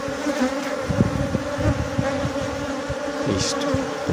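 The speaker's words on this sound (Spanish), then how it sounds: "Poquito molesta las abejas porque cuando están huérfanas son groseras" Honeybees swarm around an opened hive during a colony split, filling the air with a dense, continuous buzz close to the listener, with individual bees droning past.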